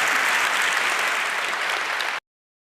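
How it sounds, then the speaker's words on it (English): An audience at a 30c3 hacker conference talk applauds in a steady, dense burst for about two seconds before it cuts off abruptly. "and yeah, it's your applause"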